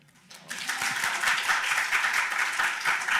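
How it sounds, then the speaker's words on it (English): An audience at a keynote event bursts into applause to approve an unopposed candidate's election, clapping starting abruptly after a brief quiet moment and continuing steadily and densely, with a faint voice beneath. "we will just applause so that we know she's elected"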